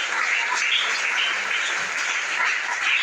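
Congregation in a Pentecostal church applauding, a steady wash of clapping that holds at an even level throughout with no voices rising above it.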